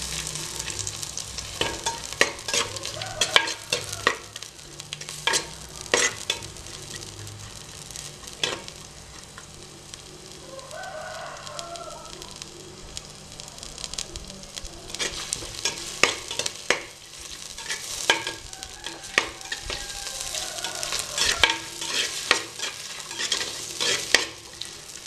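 Onions sautéing in a clay pot for chicken, a steady close sizzle running throughout with frequent scraping stirs of a spoon against the pot, no voices.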